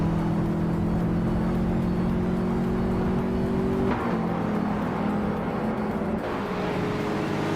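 A 2005 Alfa Romeo Brera races in a video game, its engine a steady loud drone with a faint shift in pitch partway through and another car's engine whirring alongside.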